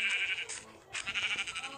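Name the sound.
goat bleating in Minecraft video game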